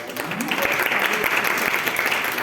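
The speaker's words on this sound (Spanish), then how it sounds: "tenemos a la profe Alejita Vaca, que también la recibimos con un aplauso." Steady applause from an audience at a panel discussion event, a dense wash of clapping that holds at an even level throughout.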